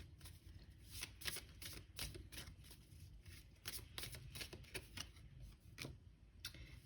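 Tarot cards are shuffled and drawn by hand, a quiet, close stream of rapid papery riffles and flicks in an uneven rhythm, with no talking.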